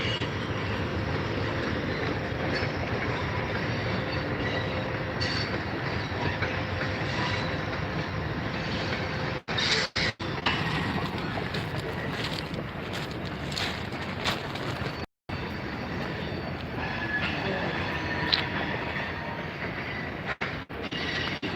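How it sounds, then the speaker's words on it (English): An Amtrak passenger train rumbles past steadily at a stop in Havre, Montana, with a broad, continuous roar and faint rhythmic clatter, filling the whole stretch at close range. "I saw the Amtrak train yesterday heading east"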